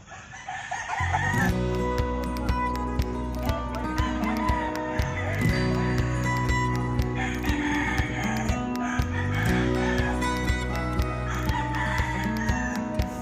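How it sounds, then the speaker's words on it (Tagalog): Several roosters crow repeatedly at close range while chickens cluck all around, a busy, overlapping chorus that never lets up. "Dala namin yung mga nabili namin mga manok"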